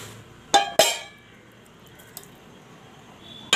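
Ice pieces dropped into a dish give two sharp clinks close together, followed by a quiet stretch, one faint tap and a final clink.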